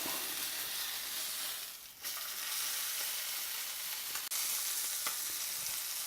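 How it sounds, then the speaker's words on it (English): Bone-in pork chop fat cap searing in a cast iron skillet, a steady close hiss of frying fat with a brief dip partway through and a faint tap near the end, no talking. "we're going to sear that fat cap."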